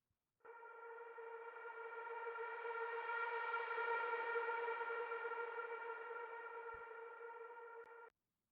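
A vocal sweep sample from a future bass sample pack swells in as a smooth, sustained, harmonic siren-like tone with a slow rise and fall in level, then stops abruptly after about eight seconds.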